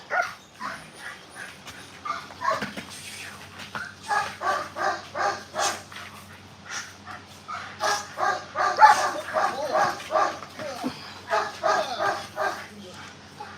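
A working dog in bite training barks and yips over and over at close range, with whimpers between, while people talk over much of the sound.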